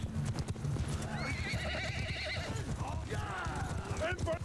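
Cavalry horses in Mount & Blade II: Bannerlord gallop in a steady clip-clop of hooves, with several loud whinnies rising over the din and a voice speaking underneath.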